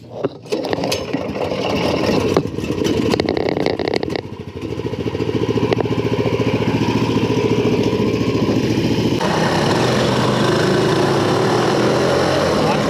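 A go-kart engine runs loud and close, a continuous rough buzzing drone that steadies after some early clatter and knocks, with people speaking briefly.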